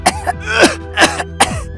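A man who is spitting blood coughs in four harsh, close bursts, with rasping throat-clearing sounds between them.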